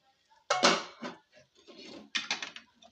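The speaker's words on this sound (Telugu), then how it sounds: "ఇప్పుడు ఒకసారి మూత అయితే తీసి చూసుకుందామండి" A metal lid is lifted off a pot of simmering mutton head curry, giving a few clattering clanks near and fairly loud, followed by lighter knocks and rattles of cookware.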